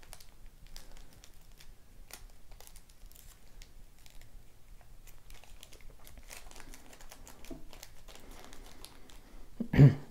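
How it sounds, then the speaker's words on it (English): Paper being folded into an origami crane gives soft, steady crinkling and light creasing rustles throughout, close and quiet, ending in a brief louder crinkle. "Then I'm folding this edge in as well."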